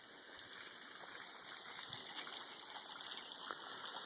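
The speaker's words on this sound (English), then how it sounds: "there's that little waterfall and here's the creek coming off of it." A small waterfall spills into a creek on private land near the Natchez Trace, giving a steady broadband rush of flowing water that runs unbroken throughout at moderate distance, with no voices.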